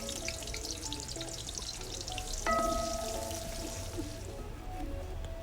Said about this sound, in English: Now let's start with some vegetable oil, chopped onions,